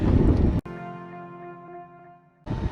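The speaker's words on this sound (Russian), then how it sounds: "Ух, сильный ветер." Bursts of strong wind buffet the microphone, roaring at the start and end, with a steady engine-like hum in the calmer middle.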